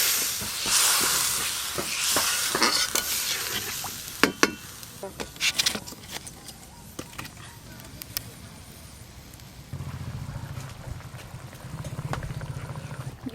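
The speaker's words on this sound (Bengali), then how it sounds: "গ্রেভি তো বেশ ভালো করে ফুটে গেল।" Masala gravy with water boils in a pan for fish curry, giving off a steady hissing, bubbling simmer under a woman's speech, with a few clinks of utensils.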